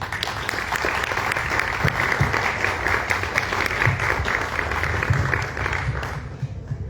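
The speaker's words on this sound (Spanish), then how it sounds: "Para él pido un aplauso" An audience at a book presentation and poetry tribute event applauds a poet with dense, sustained clapping that holds steady before tapering off at the end.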